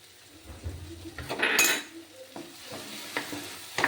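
Papaya kofta stir-fried with spices in a pan: a metal spoon scrapes and clanks against the pan over a low sizzle, with several scattered knocks and one louder burst of clatter.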